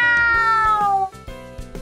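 A kitten meows up close and loudly: one long, drawn-out meow that falls in pitch, followed by a few short, softer mews.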